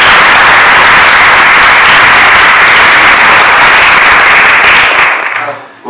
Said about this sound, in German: Viel Applaus erstmal, Martin Schenzel.